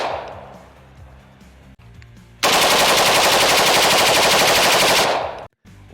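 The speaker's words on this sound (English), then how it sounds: "do a full auto controllability demonstration with the 16A1" M16A1 rifle firing full auto in one sustained, very loud burst of rapid, evenly spaced shots lasting about three seconds, preceded by quieter handling noise and followed by a brief stop.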